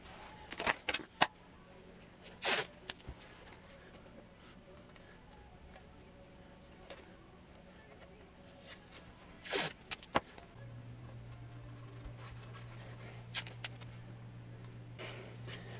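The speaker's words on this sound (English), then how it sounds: "So I'm gonna go ahead and tape off the binding." Masking tape is pulled off the roll and laid along the binding of a DIY kit guitar, giving a few short, sharp ripping sounds at irregular intervals against a faint, quiet background.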